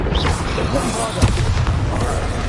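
Bombarda blasting spell explosion in Hogwarts Legacy, a loud booming burst with crackling rumble over continuous game sounds and a voice.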